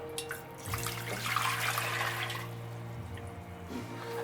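Water running from a tap into a pot for boiling pretzel buns, a steady splashing stream lasting a few seconds over a faint background hum, then tapering off.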